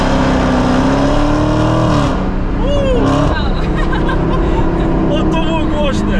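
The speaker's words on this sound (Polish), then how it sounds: "Posłuchajmy teraz dźwięku wydachu." A 808-horsepower Dodge Challenger Hellcat Redeye revs hard from inside the cabin, its supercharged engine a loud, deep continuous roar rising in pitch as it accelerates, while passengers chatter and laugh over it.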